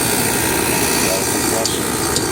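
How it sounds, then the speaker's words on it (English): A Rheem air conditioning condenser runs with a steady broadband mechanical drone as its compressor starts up and the fan blows, loud and continuous throughout with no pauses. "Oh, I hear a compressor."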